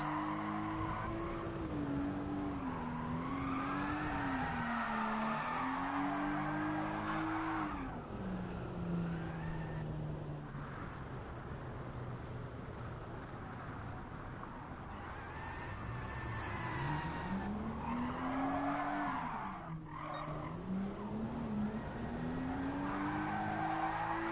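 A race car in the video game GT Sport spins and skids, its engine revving and falling while tires squeal in long sweeping waves, loud and continuous for about twenty seconds with no talk.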